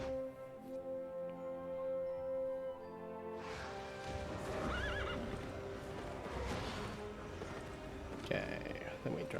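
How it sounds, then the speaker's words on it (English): Horse sounds in a video game: a loud, drawn-out whinny, then hooves clip-clopping amid crashes and whooshes, with a voice speaking over it. "I want my horsey, please."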